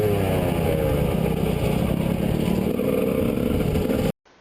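An enduro motorcycle engine pulls away in first gear and shifts to second, a loud close buzzing drone with a brief dip in pitch at the gear change before it cuts off abruptly.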